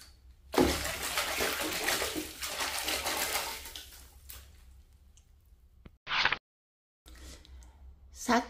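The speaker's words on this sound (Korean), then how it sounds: "물기를 쫙 빠지게 속꼬리에 건집니다." Washed wild garlic leaves sit draining in a colander, water splashing and trickling loudly at first, then thinning to drips, with a brief hiss near the end.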